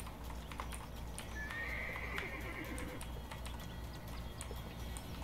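A horse in the video game Attack on Titan neighs once in a rising whinny while hooves clip-clop steadily beneath, quiet and mixed with faint clicking.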